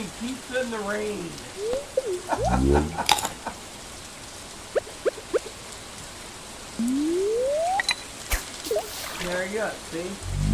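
Rain falls steadily in the Stardew Valley farming game, a soft constant hiss under scattered chirpy, whistling game effects and short clicks.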